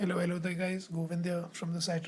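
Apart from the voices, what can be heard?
No distinct noise like a dog, phone or traffic.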